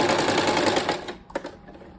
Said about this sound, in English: I'm going to put the strip flat down on the batting and sew it straight down.